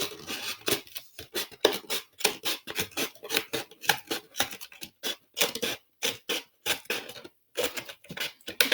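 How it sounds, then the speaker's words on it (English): Scissors snip around a hole in a plastic bottle being made into a birdhouse, a rapid series of close, crisp cuts and crinkles with short pauses, no talking. "I'm just going to cut around this."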